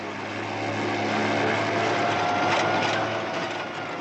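A steady propeller drone hums throughout, a plane flying at moderate distance with no talking.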